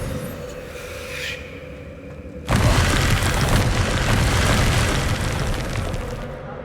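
A Confringo fire spell explodes in the video game Hogwarts Legacy: a sudden loud burst cuts in over a steady rumbling ambience and settles into a sustained, crackling roar that fades slowly.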